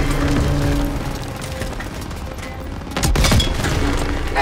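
A German Panzer tank is destroyed in the World War II shooter Call of Duty WWII. Ongoing gunfire and rumble run beneath a sudden loud, close explosion burst near the end, with debris crackling afterward.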